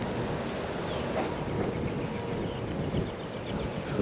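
Steady wind gusting over a lake bank during a cold, low-visibility day of bass fishing, a continuous broadband rush with slight swells, no voices.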